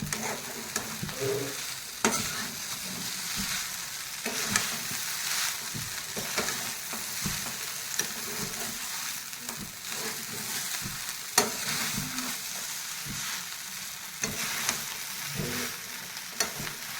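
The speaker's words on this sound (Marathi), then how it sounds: "याला मस्त नरम होईपर्यंत आपण असं हलवत राहूया।" Sabudana khichdi is stirred in a pan with salt, giving a continuous soft sizzle and frying hiss broken by scraping strokes of the spoon, close and moderately loud, with no voices.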